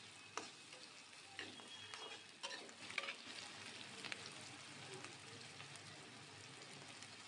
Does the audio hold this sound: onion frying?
yes